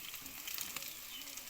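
Chopped vegetables frying in a pan with salt and turmeric, stirred for a moment as a breakfast dish is cooked, giving a soft steady sizzle with light scraping, close and fairly quiet, with no voices.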